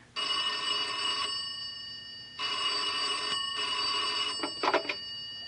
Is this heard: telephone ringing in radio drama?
yes